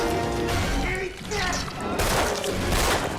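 Gunfire in a Tremors 4 movie scene crackles as dense, loud bursts of shots mixed with impacts and crashing, with voices shouting over the chaos.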